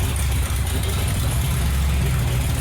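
A 1928 hot rod's engine idling low and uneven, a loud close rumble that runs steadily throughout without revving.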